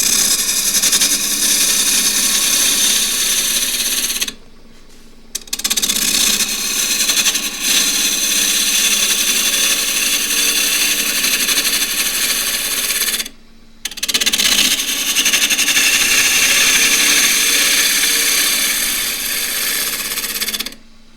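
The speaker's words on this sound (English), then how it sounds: "This is a nicely balanced blank, and it's running at 1200 RPM, 1/2 inch spindle gouge as usual." A balanced crossgrain box blank spins on a wood lathe at 1200 RPM while a 1/2 inch spindle gouge cuts it, giving a continuous loud rasping hiss broken by two short pauses where the tool lifts away.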